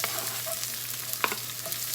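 Onions and garlic sizzling in hot olive oil in a pan for pasta puttanesca, a steady close crackle with a few sharper pops and stirring scrapes, and no voices.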